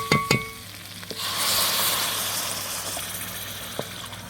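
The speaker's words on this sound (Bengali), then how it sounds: "এখন আমি পরিমাণ মতো ঝোল দিয়ে নেব" Broth poured into a pan of frying liver and potato curry: a couple of sharp clanks, then a steady loud sizzle and bubbling hiss that stays strong and gradually settles, without speech.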